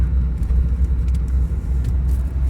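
A car driving along a snowy winter road, a steady low engine and tyre rumble heard from inside the cabin, continuous and fairly loud with no talk.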